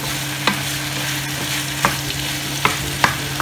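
Ginger and tomato sautéing in a pan, a steady close sizzle with a few sharp scraping stirs of the utensil at intervals, no voices.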